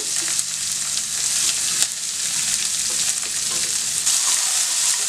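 Loud, steady sizzling of onion frying in hot oil, a continuous crackling hiss with faint stirring scrapes.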